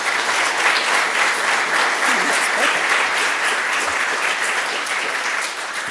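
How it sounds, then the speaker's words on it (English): Sustained audience applause at a broadcast technology conference session, a dense, steady wash of clapping from a full room that carries at even loudness throughout. "Round of applause, please."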